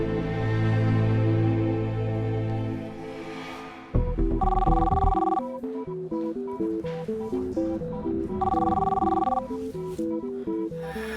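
A telephone rings with a repeating electronic ringtone of warbling bursts and melodic tones after a low droning passage, loud and close, with no speech over it.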